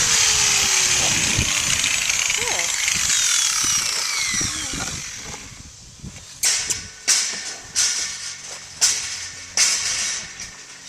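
A power grinder trims a wild mustang's hoof with a loud, sustained whine that fades out, followed by several sharp, rhythmic bursts spaced about a second apart.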